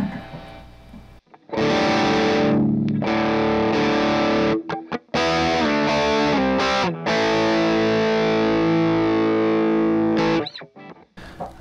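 High-gain distorted electric guitar played through a Friedman MiniBE amp head, loud sustained chords and ringing notes with a few abrupt stops and silences, no talking.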